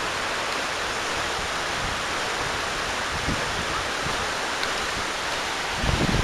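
A waterfall below a scenic outdoor lookout, heard as a steady, unbroken broadband rush of falling water that holds an even level for several seconds, with a slight swell at the very end.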